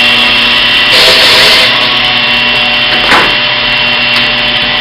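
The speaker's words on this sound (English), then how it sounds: "So the vacuum has to be on. Get rid of the sawdust." A dust vacuum runs at full power to clear sawdust from a board being cut in a woodshop, a loud steady roar with brief scraping of wood passing through midway.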